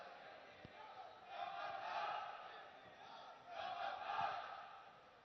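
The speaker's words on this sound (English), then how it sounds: "Powerful cheering by the team members." Team members cheering at a robotics competition match, a distant crowd roar that swells twice in waves over a steady hall murmur, fairly faint and with no clear speech.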